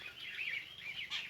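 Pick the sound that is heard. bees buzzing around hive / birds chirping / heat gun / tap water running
birds chirping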